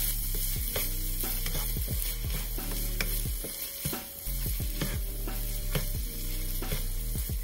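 Steady scraping and clinking of a spoon stirring in a bowl, repeated strokes in a continuous rhythm with a faint sizzling hiss underneath.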